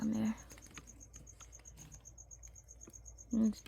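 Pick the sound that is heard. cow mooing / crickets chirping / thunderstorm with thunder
crickets chirping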